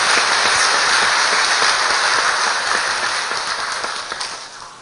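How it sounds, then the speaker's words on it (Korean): A church congregation gives a round of encouraging applause during Sunday service, a dense, fairly loud patter of many hands that gradually thins out toward the end. "격려하는 박수 한번 보내주시기 바랍니다"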